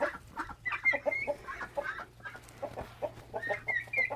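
Young turkeys crowded in a chicken coop give off repeated soft clucks and chirping calls in an irregular stream, close by, over a low steady hum.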